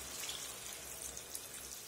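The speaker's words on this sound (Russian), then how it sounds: "И добавляю воды." Water is poured into a frying pan of chicken gizzards browned with carrot, onion and a little lemon. It makes a soft, continuous hissing rush with no speech.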